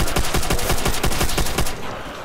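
Rapid automatic gun firing in Call of Duty zombies mode on the Nacht Der Untoten map, loud evenly spaced shots in a fast steady rhythm that stop abruptly near the end, with no talking.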